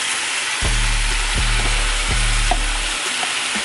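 Quesadilla filling frying in olive oil on a stovetop, a steady broad sizzle with a few brief clanks of a utensil against the pan, close and fairly loud, no voices.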